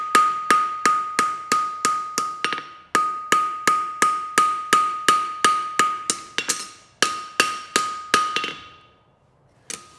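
A hammer strikes a 3/4 straight-bar fullered horseshoe to roll the toe, a steady run of about two dozen sharp, ringing metallic blows at close range, with brief pauses before the strikes stop.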